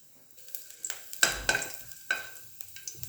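Garlic cloves and ginger frying in ghee in a pan, a soft steady sizzle broken by several sharp crackling bursts and stirring scrapes, close and fairly quiet with no voices.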